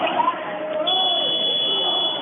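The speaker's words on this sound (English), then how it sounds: "I just heard the shot clock buzzer." A long, steady electronic shot clock buzzer sounds at a high school boys basketball game between Faribault and Stewartville, holding one bright tone for over a second under a commentator talking and gym noise.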